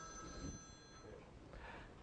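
A telephone ringtone sounds in a quiet room, a steady electronic tone repeating faintly through the two seconds with no voices.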